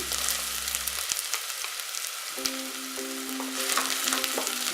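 Onion and garlic frying in hot oil on low heat for homemade pizza sauce, a steady close sizzle with a few stirring clatters, no talk, and a low hum dropping away early.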